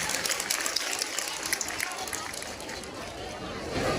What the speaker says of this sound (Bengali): জোরদার হাততালি চাইবো আপনাদের কাছে